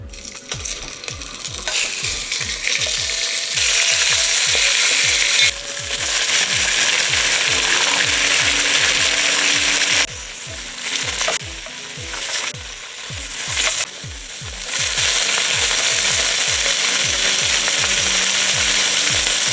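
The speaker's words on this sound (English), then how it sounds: "we're gonna add the beef and sear it up" Beef searing in hot oil in a Dutch oven, a loud, continuous sizzle close by, with rapid repeated ticking or scraping clicks and a few short pauses where the hiss drops away, with no talk.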